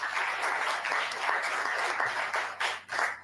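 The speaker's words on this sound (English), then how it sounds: "Let's give them a big hand of applause." Audience applause at a matric results announcement ceremony, steady clapping from a seated crowd with a few louder bursts of individual claps toward the end.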